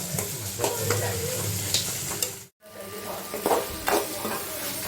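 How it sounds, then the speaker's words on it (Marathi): Sambar masala and garlic are sautéed in a pan for a prawn curry, with a close, steady sizzle and scraping stirs that briefly cut out before resuming. "सोबतच याच्यामध्ये टाकलाय सांबार आणि हे सगळं आपण परतून घेऊया थोडं सॉफ्ट होतपर्यंत"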